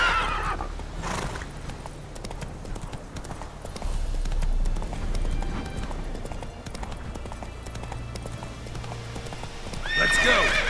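Hooves of the horse Roach clip-clop at a gallop through The Witcher 3 game world, a steady loud drumming with whinnies and brief rustling bursts at the start and end.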